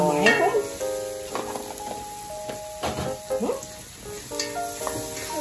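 A piece of garlic sizzles and fries in a pan while an Egyptian dish is cooked, giving a steady close hiss with occasional stirring scrapes and clinks.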